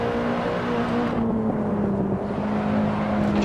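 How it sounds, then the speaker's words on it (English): A BMW E30 M3 racing car in Assetto Corsa drones steadily with a hollow, constant engine note at a held pace, loud and continuous with no talking over it. "The fourth car sounds really kind of hollow, honestly, compared to the Alpha."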